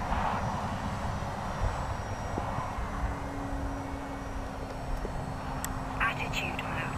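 An E-Flite Timber radio-controlled airplane flies in gusty spring weather, its electric motor a steady, fairly distant drone under wind, with faint voices nearby.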